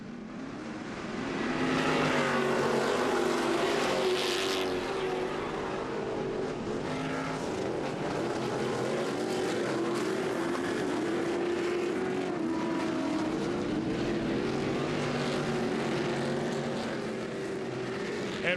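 Off-road race truck engines revving at the start of a short-course race, a loud continuous roar building in the first seconds and then holding steady, blending several engines.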